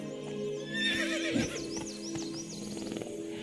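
A horse in the video game The Witcher whinnies over rhythmic clip-clopping hooves as it runs, with game sounds playing steadily in the background.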